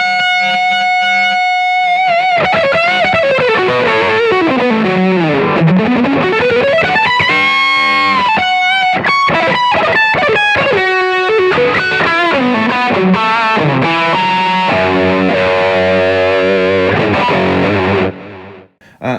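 Distorted electric guitar solo with a Riot distortion pedal stacked on an OCD overdrive, loud and sustained, full of sweeping bends, fast runs and held high notes that end in a final fading note; no voices.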